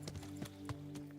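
Horse hooves clip-clopping in the medieval video game Kingdom Come: Deliverance as the horse is brought to a stop, several soft hoofbeats over a steady low hum of in-game ambience and music.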